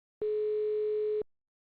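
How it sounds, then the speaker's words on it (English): A steady telephone dial tone sounds while a call is being placed, one continuous unbroken tone lasting about a second, clear and alone with no talking over it. "Let me get June on here."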